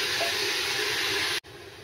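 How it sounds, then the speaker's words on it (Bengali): Turmeric-spiced ingredients fry in a pan with a loud, steady sizzling hiss that fills the space without pause, cutting out briefly near the end before resuming. "এখন এটাকে আমি 10 মিনিট ধরে ভাজা ভাজা করে নেব।"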